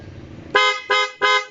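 A Barako 175 motorcycle with a fully modified electrical setup sounds its passing horn in three short, loud, bright honks, evenly spaced and close, after a brief stretch of low background noise.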